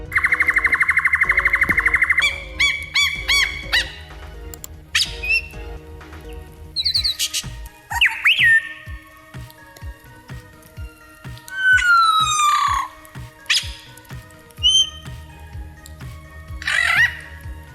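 A lyrebird pours out a varied run of mimicked sounds: electronic alarm-like warbles, rapid clicks, squawks and whistled chirps, loud and close with brief pauses.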